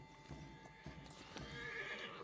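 A horse walking with steady clip-clopping hooves and a whinny rising near the end, a short close sound effect with no voices.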